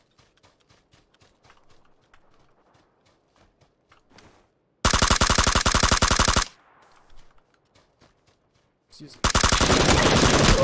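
Suppressed gunfire in PUBG on the Sanhok map: two loud, sustained bursts of rapid automatic fire separated by quieter stretches of footsteps and movement, with a brief spoken word.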